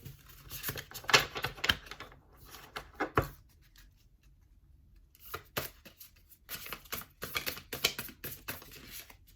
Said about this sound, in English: This is a newer deck, so it's sometimes newer decks are harder to shuffle.